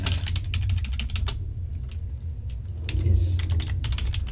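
Rapid keyboard typing at close range during a session of the space game Elite, with clustered keystroke clicks over a steady low hum and a brief faint voice.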